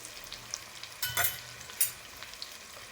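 Onions fry with turmeric in a pan while being stirred, a faint soft sizzle broken by a few short scraping stir strokes.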